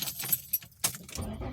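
Car keys jangle close by in a few quick metallic bursts by an Infiniti G35, brief clinks separated by short quiet gaps.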